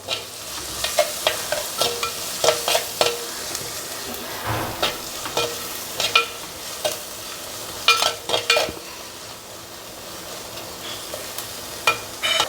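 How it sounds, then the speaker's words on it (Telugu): Drumsticks frying in oil for kadamba sambar, a continuous sizzle punctuated by a rhythmic series of ladle scrapes and clinks against the pan, close and fairly loud, with no talking. "మునక్కాయ బాగా వేగాలి నూనెలో"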